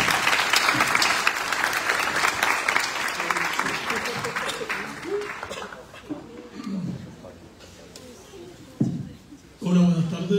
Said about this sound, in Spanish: Le damos un aplauso a Rodrigo.